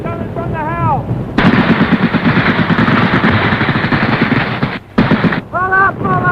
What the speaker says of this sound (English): some machine guns up here. It's coming from the house.